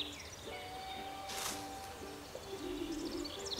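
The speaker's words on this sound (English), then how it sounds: "We can hear the birds chirping" Birds chirp and coo in a sunny video game meadow, with scattered soft calls and a few brief trills over a steady low ambient background hum, fairly quiet and with no talk.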